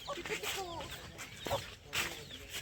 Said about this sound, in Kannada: ಕೋಳಿ ಮತ್ತು ಅವರ ಮರಿಗಳು,